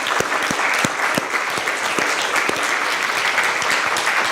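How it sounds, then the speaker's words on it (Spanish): Steady applause from a crowd, dense clapping with a few sharper claps standing out, continuing throughout without voices. "Denle un aplauso a Dios"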